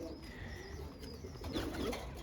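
Pigeons coo faintly while being fed grain, with soft bird calls and light movement in a quiet setting.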